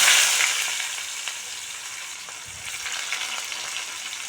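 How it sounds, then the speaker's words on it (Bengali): Chopped onions fry in mustard oil with a steady crackling sizzle, close and fairly soft, fading slightly then picking up again as they are stirred in the pan, without any talking. "আমি পেঁয়াজগুলো ভালো করে লাল লাল করে ভেজে নেব"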